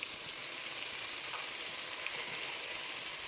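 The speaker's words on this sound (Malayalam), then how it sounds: "പച്ചമുളക് വേവിച്ചത് നല്ലപോലെ ഒന്ന് വഴറ്റി കൊടുത്തത്" Boiled green chilies sautéing in a hot pan, giving a steady, even sizzle and hiss throughout, close and unbroken, with no talking.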